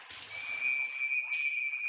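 A referee's whistle at a boys' varsity ice hockey game between Groton and BB&N: a single steady, high whistle tone held for most of the moment, fairly faint against the arena's background murmur.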